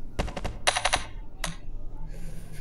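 Gunshots in the People Playground video game, a few sharp cracks and a quick rattling burst, close and fairly quiet, followed by a lighter hiss.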